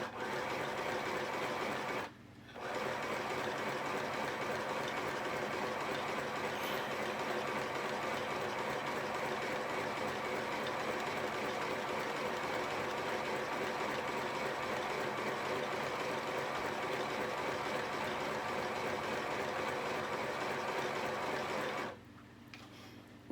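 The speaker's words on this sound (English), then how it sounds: "I'm going to sew around the edges on my little mini sewing machine and put a nice zigzag" A small battery-powered mini sewing machine zigzag stitches around fabric edges with a continuous, steady whirring hum that runs for about twenty seconds between brief pauses at the start and finish.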